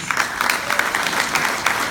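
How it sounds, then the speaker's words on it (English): Fundraising event audience gives a big round of applause, a dense, steady wash of many hands clapping that fills the room evenly from start to finish. "If we can get a huge round of applause"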